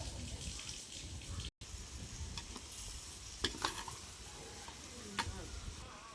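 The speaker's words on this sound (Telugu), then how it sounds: "టమోటాలు వేసాం కదా, కాసేపు మగ్గించుకుందామండి." Tomatoes cooking in a covered pan for a goat-offal gongura curry give a steady close sizzle and bubbling simmer, broken by a brief gap and a few sharper clinks of utensils.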